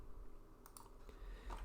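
A computer keyboard is tapped a few times while working in SketchUp 3D modeling software, giving soft, close, quiet clicks spaced irregularly over a low hum.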